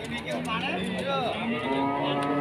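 A cow moos in long, wavering low calls amid a noisy outdoor livestock market background with other livestock sounds.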